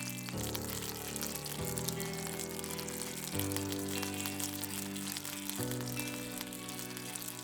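A Spanish omelette of potatoes and eggs fries gently in a pan, its soft, even sizzle running beneath steady background music.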